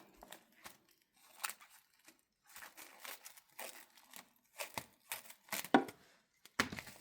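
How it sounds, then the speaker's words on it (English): Scissors cut through a plastic sheet covering a planting bed in an organic vegetable garden, giving a series of close, irregular snips and crinkles separated by short pauses. "So I cut with my scissors."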